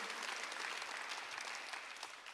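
A church congregation at a Sunday worship service claps together in a sustained, even round of applause that sounds somewhat distant and soft, steady throughout with a faint crowd murmur.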